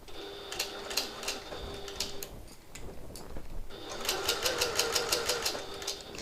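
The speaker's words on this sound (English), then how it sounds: "I could just go and do another line of stitching just next to it with the correct stitch length" Domestic sewing machine running a line of stitching on a reversible hobo bag, two quiet rhythmic bursts of rapid needle ticks separated by a short pause.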